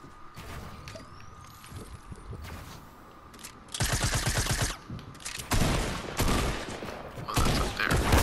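A new tactical shotgun in a video game fires in several loud bursts of blasts, with rapid shots in the second half and quieter gaps and game sounds between them.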